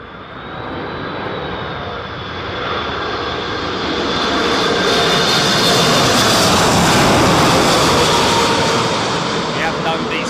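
An airliner landing at Heathrow in strong Storm Isha winds roars close by, its engine noise building steadily to a loud peak and holding, with wind buffeting and people talking over it.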